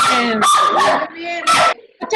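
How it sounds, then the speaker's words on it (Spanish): Small pet dogs barking and yipping up close in a home during heavy rain, several quick excited barks in a row with a brief whimpering tone between them. "Y mis perritos también están ladrando."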